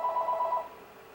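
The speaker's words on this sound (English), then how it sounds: "the phone ring." A telephone rings in a quick trilling burst of repeated electronic pulses for about half a second, fairly faint, then fades into quiet room tone.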